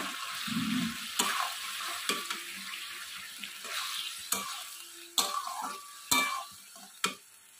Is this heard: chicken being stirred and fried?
yes